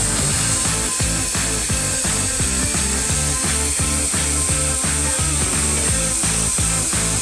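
Close, loud rhythmic rasping strokes of a saw cutting an RX-8 side skirt, steady back-and-forth repetitions running the whole time with no talking.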